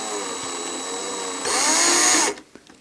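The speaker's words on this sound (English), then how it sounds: "I'm going to go and have to get my drill out and actually just drill these gently out" A small power drill gently bores out holes in a restored Mego Black Hole Vincent toy figure, a steady whirring that rises to a louder, higher whine before cutting off abruptly.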